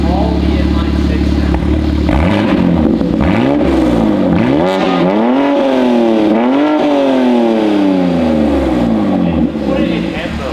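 Valves-open titanium equal-length exhaust on a BMW G87 M2 inline-six, blipped repeatedly in quick rising-and-falling revs, loud and close, with excited voices speaking over the engine noise.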